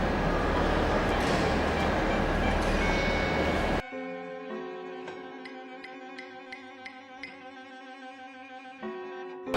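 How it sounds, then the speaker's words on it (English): A train at platform 2 of Marylebone Station in London gives off a loud, dense roar for a few seconds. The sound then cuts abruptly to quieter, ringing tonal sounds. "We are now at Marylebone Station in London."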